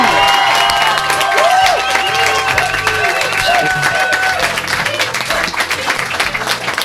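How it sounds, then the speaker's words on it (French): A crowd bursts into loud applause and cheering for the creator of a series, a dense wash of clapping with shouts and whistles held steadily at close range for several seconds, then easing slightly. "je me permets d'ajouter un tonnerre d'applaudissements pour Richoult"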